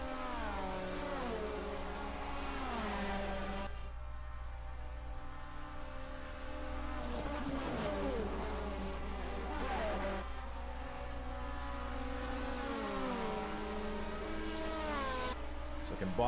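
Racing cars of the 1979 DRM Division 2 round at the Nürburgring scream past in a steady engine drone, pitch sliding up and down through gear changes and passes, under continuous commentary.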